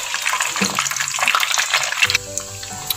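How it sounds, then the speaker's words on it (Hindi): Boneless chicken thigh pieces dropped into hot oil all at once, a loud bright sizzle and crackle that cuts down to a quieter steady frying hiss partway through, no talking. "मैंने एक ही दफ़ा में सारा चिकन ऑयल में शामिल कर दिया।"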